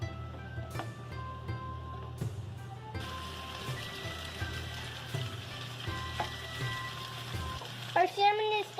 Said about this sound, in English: Now, let's saute our zucchini and squash. First, heat a little oil in the pan.